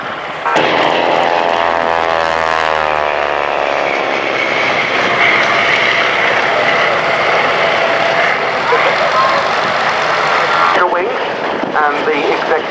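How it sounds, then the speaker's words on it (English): A Spartan 7W Executive propeller aircraft engine runs steadily and loudly at an interwar-themed VE Day airshow at Duxford, a continuous drone holding for the whole stretch with crowd ambience beneath. "another aircraft that hasn't displayed here before, the Spartan 7W Executive."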